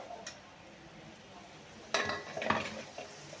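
Tomato masala for a roadside-style kalan being sautéed in a pan, a soft steady sizzle with a couple of louder scraping stirs and clinks near the end, no talk.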